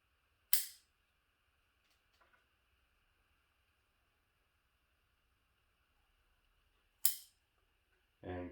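Two sharp snips of bonsai pruning shears cutting back long shoots, isolated clicks several seconds apart in an otherwise quiet setting.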